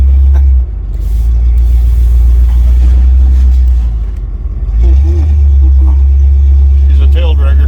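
A 1968 Buick LeSabre riding on air suspension drives by with a loud, steady low engine rumble that swells again after a brief dip, with people talking over it.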